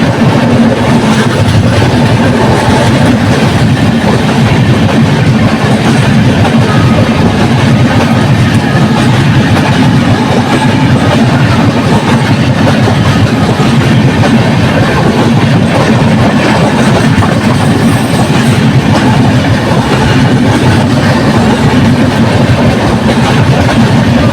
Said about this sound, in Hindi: अपनी ट्रेन 20 मिनट डिले के साथ निकल चुकी है